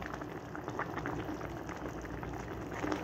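Bihon rice noodles with malunggay leaves boil in a pot, a steady close bubbling and simmering hiss that runs unbroken without talk.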